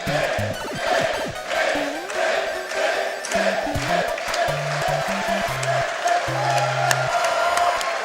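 A large live crowd at a Games Done Quick speedrun marathon cheering, whooping and clapping loudly throughout, with game music tones playing underneath.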